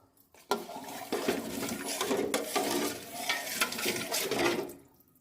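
Mung dal khichuri with vegetables being stirred in a pot just after water is added, giving a sloshing, scraping wet stir that runs steadily for several seconds at close range.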